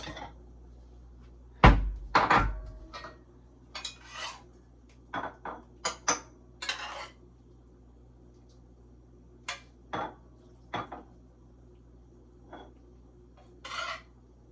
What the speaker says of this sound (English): Let me get my bowl.